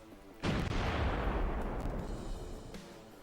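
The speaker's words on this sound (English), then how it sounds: "We're going to lob over another shell with the bombard, I think." A bombard shell fired in a Lancer RPG session, one sudden loud booming blast that rolls off into a decaying rumble over about three seconds, heard alone.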